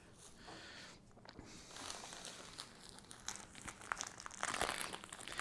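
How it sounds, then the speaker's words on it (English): Scissors cutting through auto-parts-store cloth for a Chewbacca mask underskull, a faint, close crinkling and snipping texture that grows busier and louder toward the end. "So let's cut this other piece out."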